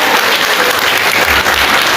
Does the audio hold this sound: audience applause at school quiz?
yes